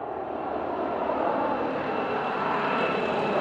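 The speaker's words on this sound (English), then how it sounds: "That's a nice black helicopter." A steady helicopter engine roar fills the whole stretch, loud and continuous without pauses, as a black helicopter flies fairly close overhead.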